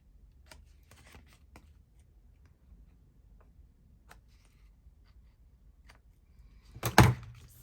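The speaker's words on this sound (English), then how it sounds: "I'm going to snip my corners." Scissors snipping the corners of paper while crafting postcards, sparse faint clicks and snips in a quiet room, ending in a louder close rustle and cut.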